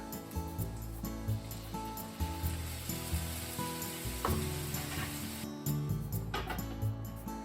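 Quiet, steady sizzling and crackling as water steams cabbage tsukune in a hot frying pan, with faint clinks and taps mixed in.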